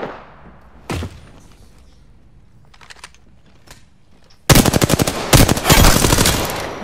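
Rapid automatic gunfire in the video game Apex Legends, a dense loud burst of shots in the latter half after a few isolated thumps and quieter clicks earlier.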